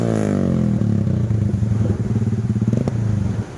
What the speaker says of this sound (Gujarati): આનો વોઇસ તો સંભળાવો અમને. તો ગાઈસ હું તમને બતાવીશ કે એનો વોઇસ કેવો આવે